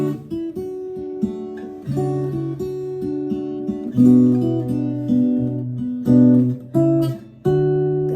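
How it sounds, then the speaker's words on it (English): Clean guitar strings are plucked with the fingers, a few notes at a time, ringing out in a slow, unhurried pattern. "I'm just plucking those strings too."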